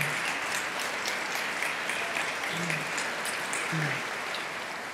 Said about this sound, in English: yes, give them applause